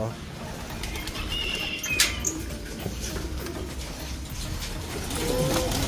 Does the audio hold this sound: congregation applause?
no